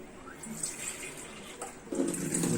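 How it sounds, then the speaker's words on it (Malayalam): Water is poured into a cup while mixing a batter of cumin and salt for Kerala banana appam, a short trickle that swells into a louder, steady pour near the end. "ഒരു കപ്പിൽ കുറച്ച് വെള്ളം ഒഴിക്കുക"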